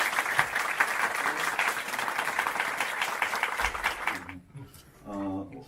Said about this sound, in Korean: 부모님께 다시 한번 뜨거운 박수 한번 부탁드리겠습니다.